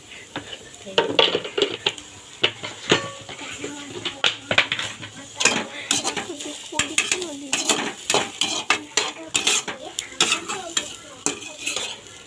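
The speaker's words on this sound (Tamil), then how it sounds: "நல்லா மசாலா போட்டு கிளறி விட்டுக்கோங்க." Masala stirred in a pan for evening snacks, with a spoon scraping and clinking against the metal in a steady run of close, fairly loud strokes over a light sizzle, and a voice speaking at times.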